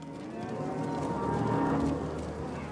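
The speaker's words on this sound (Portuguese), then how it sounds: "Mas Brian conseguiu fazer suas vacas preencherem o espaço um dia ocupado por bisões." Cattle moo on a ranch where cows graze land once roamed by bison, a loud, drawn-out low call that carries over steady outdoor background sound.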